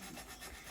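A potato rubbed against a kitchen grater, a short burst of rough, scratchy rasping strokes, faint and close by, with no voices.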